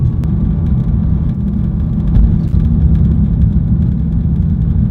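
A supercharged BMW E92 M3 drones steadily at cruising speed on a long highway drive, a loud, low, constant engine hum with road rumble and no break or change in pitch.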